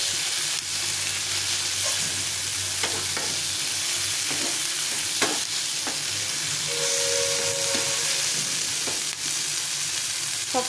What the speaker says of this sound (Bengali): আবার এইভাবে একটু ভেজে নিতে হবে ভালো করে